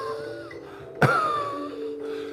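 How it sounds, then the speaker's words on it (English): A single short, close cough during a qigong breathing exercise, sharp and brief over a quiet, faintly humming room. "So now we're going to slow the cough down."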